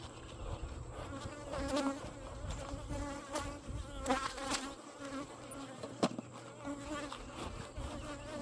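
Honey bees buzzing around an open hive, a dense, continuous hum of many insects close by with individual bees passing near, no talking.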